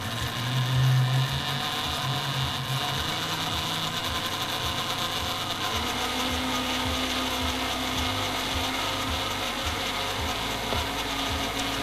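An electric juicer runs steadily in a kitchen, a continuous motor whir and buzz with slight shifts in pitch, loud and close throughout, with no talking.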